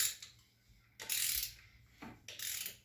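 A ratchet clicks in short bursts while turning over a stuck Kawasaki 250 Ninja engine by hand, close and fairly quiet, with pauses between strokes.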